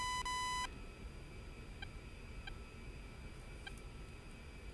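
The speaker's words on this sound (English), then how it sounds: "all those beeps you're hearing, that's the radar warning" Radar warning indicator in an A-10C Thunderbolt II cockpit in the DCS World flight game, sounding a loud rapid burst of beeps at the start, then sparse short beeps over a steady low cockpit drone.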